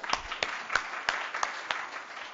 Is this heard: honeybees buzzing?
no